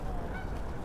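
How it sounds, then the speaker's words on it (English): Brief, faint honking of geese in the distance against a low outdoor rumble. "Lots of geese out here."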